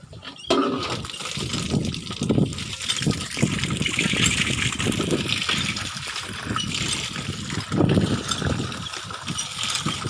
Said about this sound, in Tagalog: Tapon mo na yung tubig kay madumi na.